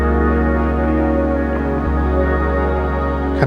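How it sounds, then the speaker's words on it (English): An Arturia Microfreak synthesizer run through a Mercury 7 reverb holds a sustained, droning tone with a steady low foundation and shimmering upper layers, washing continuously for several seconds before a brief shift near the end. "the synth sound just came from the Microfreak"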